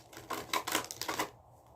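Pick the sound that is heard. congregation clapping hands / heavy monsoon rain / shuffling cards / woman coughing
shuffling cards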